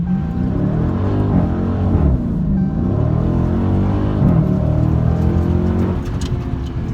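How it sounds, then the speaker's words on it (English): A Dodge Hellcat in sport mode launches from a standstill to 60 mph on warmed tires, its supercharged engine roaring loud and close with rising revs and gear-change dips, no voices over it. "0 to 60 with heat in the tire this time."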